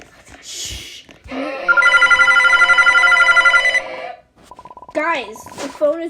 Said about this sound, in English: Guys, the phone is ringing.